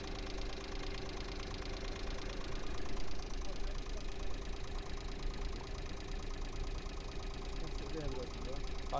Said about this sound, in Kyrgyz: Мотордун жүрүшү жакшы экен